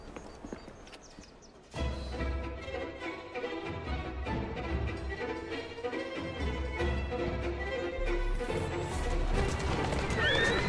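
Horse-drawn carriage in Assassin's Creed Syndicate, with hooves clip-clopping and wheels rumbling steadily over a dense game soundscape, a horse whinnying, and spoken dialogue mixed in.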